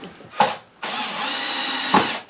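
Close and loud, a power drill drives screws into a new window frame at a chalet, with two short bursts around a sustained whirring run.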